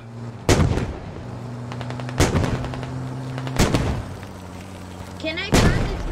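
Machine gun fire in the tactical shooter SquadOps, heard as four heavy, loud bursts spaced a second or more apart, with a steady engine-like drone underneath and faint radio-style voices.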